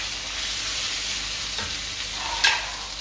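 Village-style tomato pickle with salt and turmeric cooks in a pan as a steady, close sizzle and frying hiss, with a brief scrape of stirring near the end.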